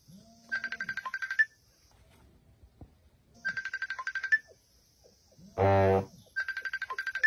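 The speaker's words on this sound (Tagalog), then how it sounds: "Itingok yung cellphone!" A mobile phone ringtone plays in repeated loud trilling bursts, pausing between each, with a brief loud shout from a person partway through.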